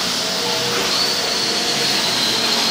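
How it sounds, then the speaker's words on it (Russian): An exhaust fan, newly installed behind a ventilation grille, runs with a steady broadband whoosh and hiss, a faint high whine above it, constant and fairly loud throughout, with no talking. "Все, вентилятор работает."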